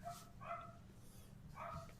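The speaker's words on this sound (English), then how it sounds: "Darren, you want to shut up your dog before I come up there and beat you up?" A dog barks a few times, fairly faint and distant, with brief pauses between barks over a low background hum.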